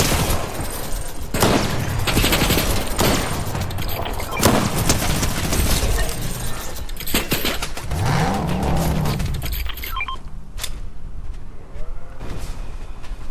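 Gunfire in Fortnite during the Chapter 5 Season 3 live event. Loud, continuous bursts of rapid shots and booms sit in a busy, dense game soundscape with short bursts of fire throughout.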